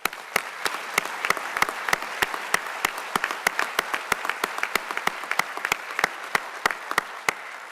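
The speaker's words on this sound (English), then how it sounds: "Let's give them all a big round of applause." Audience applause at the Best Ranger competition awards, a steady patter of many clapping hands with sharp individual claps standing out, moderately distant and sustained throughout with no talk.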